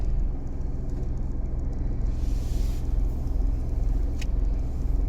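A car engine rumbles steadily and close while gear shifts are being practised, a continuous low drone with no distinct revs or talk over it.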